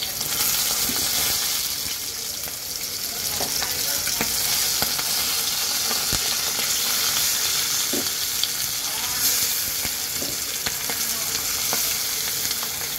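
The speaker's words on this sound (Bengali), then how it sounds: "মাছটা ভাজার জন্য দেখো চুলার তেল গরম করতে বসিয়ে দিয়েছিলাম, গরমও হয়ে গেছে। আমি এখন এক এক করে মাছটা ছেড়ে দেব।" Fish pieces fry in hot oil with a loud, dense, continuous sizzle that holds steady throughout, along with faint occasional clicks, close up with no voices.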